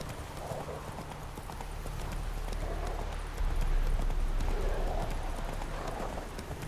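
Roach, a horse in The Witcher 3, gallops steadily, a continuous rhythmic drum of hooves over a low rumbling game backdrop.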